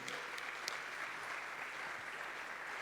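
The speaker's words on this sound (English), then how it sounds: "Round of applause for these guys." Audience applause after a startup talk on rapid experimentation, a soft, even wash of clapping from a modest crowd heard at a distance, steady and continuous with no talk.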